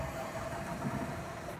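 A bus engine idles and starts moving off in The Bus driving game, a faint low rumble with a steady hum and no talking.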